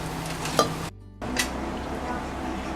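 Beef biryani is stirred and mixed in a pot, with scraping, soft sizzling and a couple of utensil knocks. Sound runs continuously except for a brief silent gap near the middle.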